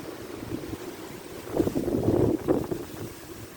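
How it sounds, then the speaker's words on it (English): Wind gusting outdoors while float fishing for rudd, a steady broadband rush that swells louder in the middle with buffeting against the microphone, no voices. "The only thing that ruined it was the wind, not gonna lie."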